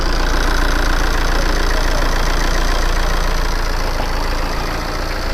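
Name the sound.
Tata Safari Dicor diesel engine idling after service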